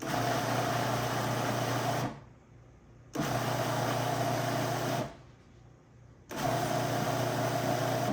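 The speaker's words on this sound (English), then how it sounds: "let's put the lid on and let's blend that up" A blender pulsing basil pesto runs in three steady whirring bursts of roughly two seconds each, separated by short quiet pauses where the motor stops.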